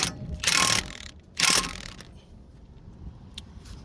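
Two loud bursts of ratcheting on a Subaru Outback axle nut, each lasting about a third of a second, with a quiet, faintly clicking pause after them.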